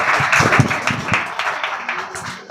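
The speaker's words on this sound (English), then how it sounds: "Everyone big round of applause." An audience at a school confidence-building program claps together in a dense burst of applause that trails off toward the end, close and fairly loud.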